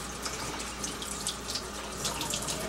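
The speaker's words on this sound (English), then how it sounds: "Just rinse them underwater," Dirty potatoes are rinsed under warm running tap water, giving a steady soft rush of water with faint splashing, quiet and with no talking.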